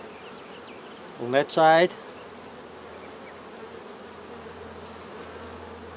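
Honey bees drone steadily on a hive frame where they are building comb on 20-pound fishing line, a constant close buzz with a short spoken phrase partway through.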